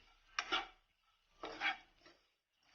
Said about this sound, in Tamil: ஓட்ஸை சேர்த்துட்டு கொஞ்சம் நெய்யில் நல்லா நம்ம வதக்கி எடுத்துக்கணும்.